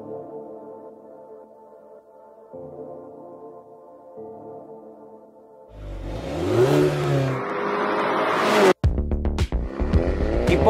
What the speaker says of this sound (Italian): l'abbiamo sparata a tutta velocità, come un proiettile, e poi l'abbiamo fatta volare.